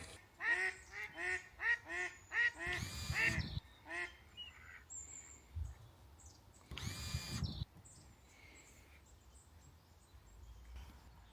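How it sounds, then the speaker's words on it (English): Ducks quack in a rapid burst of nasal calls outdoors in London on a sunny day, with a few more scattered quacks and a couple of loud rustling bursts in between. "We got some ducks."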